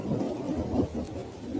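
Low, rumbling thunderstorm noise with wind and light rain under dark skies, a continuous deep roll that swells and fades over a short stretch, fairly loud with no voices.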